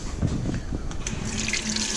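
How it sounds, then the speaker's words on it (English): Tap water runs and splashes as canning jars are rinsed for pasta sauce made from garden tomatoes. The flow is steady and close, with small clinks and drips and no talking over it. "And we're just gonna rinse these off."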